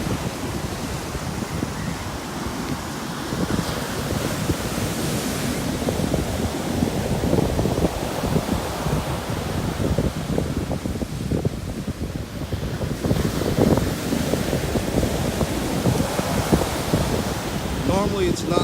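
Rough ocean surf pounds a beach ahead of Hurricane Florence in 2018, a continuous loud roar of breaking waves mixed with heavy wind buffeting the microphone, steady throughout with no talk.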